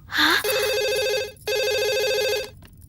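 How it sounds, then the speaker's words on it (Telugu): A telephone rings in a film scene: a short chirp, then two long, loud electronic ring bursts separated by a brief gap, clear and close with no talking. "తల్లి గుర్తుకొచ్చి పబ్లిక్ ఫోన్ నుంచి అబ్బాయి ప్రైవేట్ గా ఫోన్ చేస్తాడు."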